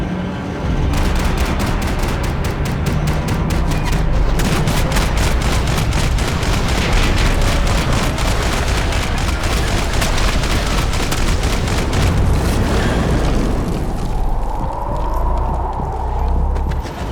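Sustained gunfire from a Max Payne 3 shootout, dense rapid bursts and booms layered over a loud, busy game mix, with occasional distant cracks and a rumble fading near the end.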